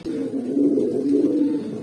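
Pigeons cooing steadily and close by in a loft, newly paired birds, low throaty coos rolling continuously without a break and no talk.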